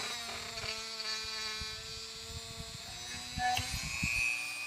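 Power tool, a Dremel-style rotary cutter, slicing through material during a 2010 Ram 1500 stereo install, a high steady whine with a rising pitch near the end, close and moderately loud, with no speech.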